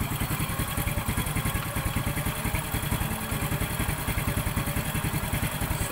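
A Honda XRM 110 motorcycle engine idles steadily up close while warm, being carburetor-tuned, its rapid regular putter and mechanical clatter continuing without a break.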